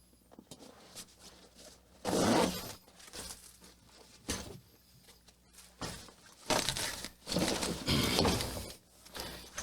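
A small zipper on a hidden back pocket of a bag is worked in several short scratchy pulls, close and fairly loud, separated by quiet gaps.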